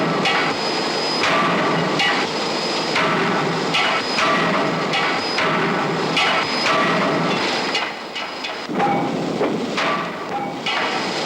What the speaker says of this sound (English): After the roughing out, the crankshaft is put between finishing dies.